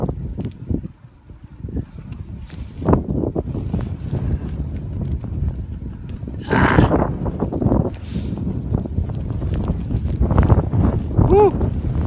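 Strong blizzard wind buffets the microphone in loud gusts and roaring bursts, with a brief voice heard among the blasts.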